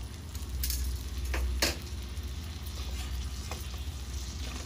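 Scallops fry on their second side in a hot pan over low heat; a quiet, steady sizzle runs throughout, broken by a couple of brief scraping clicks near the start.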